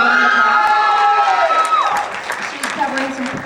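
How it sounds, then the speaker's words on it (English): An audience at a PHS school band winter concert claps and cheers, a dense wash of applause with whoops that gradually thins, while voices carry over it. "Please give her a round of applause."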